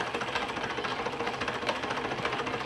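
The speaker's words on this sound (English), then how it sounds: "we got the inside out Bedini motor working." A homemade inside-out Bedini motor runs steadily, giving a continuous buzzing, whirring mechanical drone with a fast repetitive rattle, close and fairly loud throughout with no voices.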